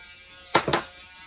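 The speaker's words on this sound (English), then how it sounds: "I got myself a small battery operated Dremel, and I'm just gonna soften the edges here." A small battery-operated Dremel sands the edges of a diorama in two quick high-pitched whirring bursts, close up, against a quiet background.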